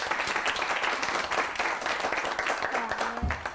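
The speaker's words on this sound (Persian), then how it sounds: "یک تشویق بکنید" Children's audience applauding at a celebration for the birth of Imam Ali, broadband clapping steady across the whole stretch, fairly loud and close, with a faint voice underneath.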